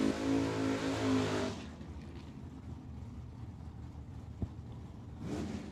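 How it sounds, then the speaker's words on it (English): A Chevrolet Chevelle drag car roars down the strip at Tucson Dragway, a loud engine blast that cuts off abruptly, leaving distant track rumble before another engine swells up near the end. "That Chevelle is nice in the left-hand lane."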